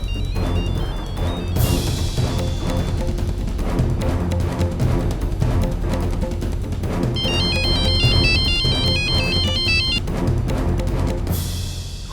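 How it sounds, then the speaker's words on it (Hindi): A mobile phone rings loudly in an Indian TV drama with a melodic electronic ringtone: a bright, repeating note pattern over a steady backing that plays continuously, with no talking. "इस पे किसी का भी फोन आना मतलब जरूर कोई ऋषि के बारे में खबर देना चाह"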